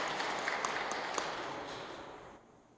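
A church congregation at a December mass gives the fathers present a soft, distant round of applause, a steady wash of clapping that fades away toward the end.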